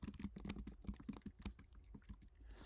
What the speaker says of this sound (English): I'm just talking into a Mac and typing on it. I apologize if the keyboard is a little loud.